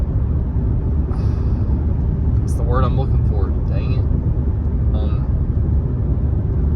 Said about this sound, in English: It doesn't dampen out the outside noise so well, so you kind of hear it a lot more in this car